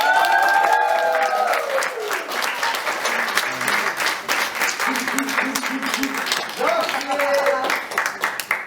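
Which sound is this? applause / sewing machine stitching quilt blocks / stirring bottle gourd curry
applause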